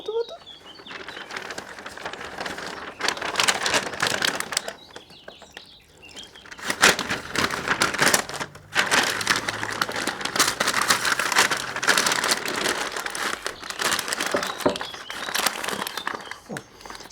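Pulled pork with apple juice gets wrapped up, producing close, busy crinkling and rustling of packaging in irregular bursts with short pauses, continuing throughout.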